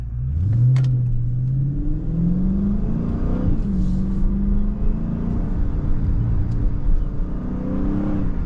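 A Dodge Charger Scat Pack 392 engine with a manual gearbox revs steadily close by, its pitch rising and falling, with a thin whine riding on top of the low rumble.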